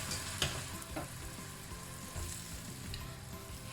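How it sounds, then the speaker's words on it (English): Rice cooking in prawn broth in a single pan, a steady soft sizzle and bubbling with faint stirring clicks, moderately quiet and close with no talking. "continue cooking the rice in the prawn broth"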